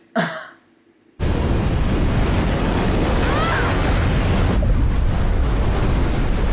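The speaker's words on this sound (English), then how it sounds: "That's a big wave." A huge ocean wave in a storm scene from The Last of Us: after a brief soft breath, a sudden loud, sustained roaring rush of surf and wind fills everything for several seconds.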